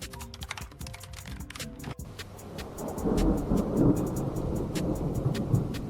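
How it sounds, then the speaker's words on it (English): Heavy rain pours steadily with rumbling thunder building underneath, while sharp clicking taps sound throughout, like typing on a keyboard. "It's raining so heavily all of a sudden."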